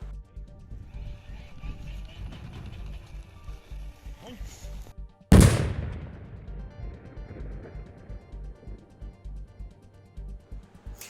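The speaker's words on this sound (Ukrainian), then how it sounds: "Під час контрольованого вибуху його знищили." A single sudden, loud blast from a controlled detonation of ordnance bursts out midway and rumbles away as it fades, over a steady background murmur.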